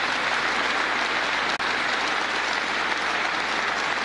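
Loud, sustained applause from a rally crowd in Indiana, a dense continuous wash of clapping with a brief dropout midway.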